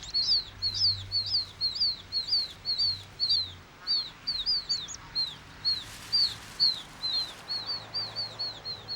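Newly hatched chicks, out of their eggs under an hour, gathered by their mother near long grass and undergrowth, giving rapid repeated high peeps in a steady near stream over a faint low background rumble.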